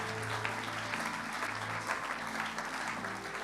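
Sustained clapping from a church congregation during a sermon, a dense even wash of applause lasting the whole moment, moderately distant with faint crowd voices.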